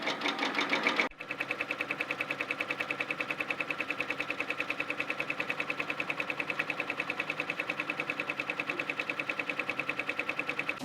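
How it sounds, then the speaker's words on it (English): A Brother PR1000e embroidery machine stitches out a logo with a fast, steady mechanical chatter that carries on evenly and close by after a brief start. "I'm going to set the machine going. And I'm very easily stitching out my logo."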